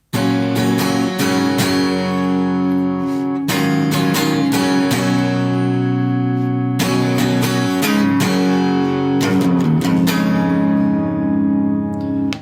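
Guitar playing the intro of a song, likely on electric guitar rather than the original acoustic, with loud, sustained strummed chords in several phrases separated by brief breaks.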